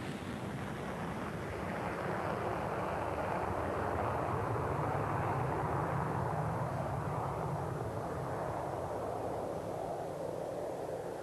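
A Boeing B-52 Stratofortress with eight jet engines roars steadily and loudly, a broad continuous rumble that holds for the full length with no talk.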